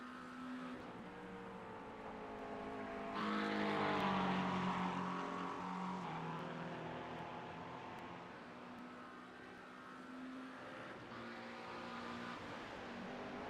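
GT3 race cars lapping Spa-Francorchamps in a sim racing game, with a steady engine drone that swells and fades as the cars pass and shift. No one speaks.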